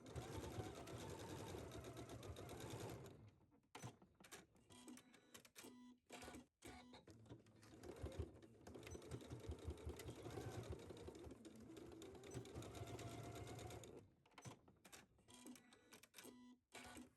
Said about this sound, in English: I'm going to take this to my sewing machine and stitch it down right here where the hem meets the placket